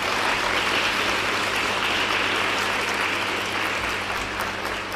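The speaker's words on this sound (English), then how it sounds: "Girls, please give them a round of applause." At a girls' school prize giving, the gathered audience claps for staff in a dense, even wash of applause that sounds almost like rain. It holds steady throughout over a faint low hum.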